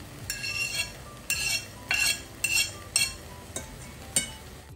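A utensil stirs softened vegetables and garlic in a saucepan, giving a series of faint metallic clinks and scrapes in a loose rhythm with no talk.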